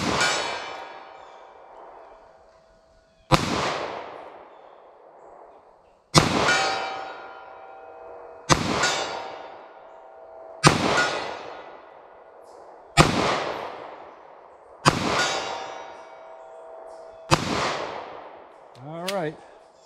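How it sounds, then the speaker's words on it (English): Eight sharp 9mm handgun shots ring out at an outdoor range, fired at a target 50 yards away, each loud crack followed by a long decaying echo, spaced about two to three seconds apart. "Let's see what I can do with this 9 millimeter."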